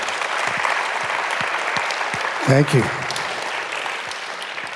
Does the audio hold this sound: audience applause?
yes